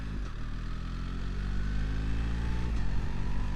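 A BMW motorcycle fitted with the Automated Shift Assistant accelerates smoothly, its engine giving a steady, close, continuous drone that rises slightly in loudness, with no voices over it.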